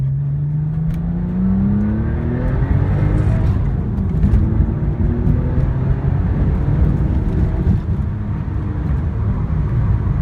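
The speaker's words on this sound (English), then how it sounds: "Alright, so I'll run it through 2 gears here. Slow shifting, obviously." A 2002 Porsche 911 Turbo accelerates with slow shifts through the gears, its engine drone climbing in pitch, dropping at a shift, then rising again with loud wind and road roar inside the cabin.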